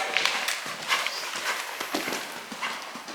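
A horse canters around a riding ring, its hoofbeats landing in a steady repeating rhythm of dull thuds close by under a wash of wind noise.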